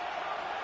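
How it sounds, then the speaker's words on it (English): A stadium crowd roars in an NCAA college football video game, a dense, steady wash of cheering that holds for under a second with no break. "This crowd ready to make its presence known."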